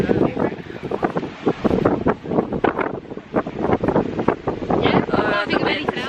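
Gusty wind buffets the microphone in rough, uneven bursts, loud and close, near the Skyliner gondola, with no clear voices over it.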